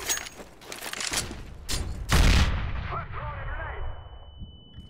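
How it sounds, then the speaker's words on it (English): Flashbang grenade going off in Counter-Strike on the dust2 map, a sharp loud burst followed by a ringing high tone that lingers as other game sounds fade, amid scattered gunfire. "Throw in a flashbang!"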